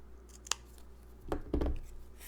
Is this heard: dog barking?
no